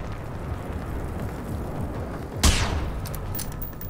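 Gunfire in the game Generation Zero: a steady low rumble of combat noise, then one sharp, loud shot with a brief crackling decay, and lighter reports trailing after.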